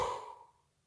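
A single long exhale released through the mouth during a guided breathing relaxation exercise, a soft airy rush that fades out after about half a second into near silence.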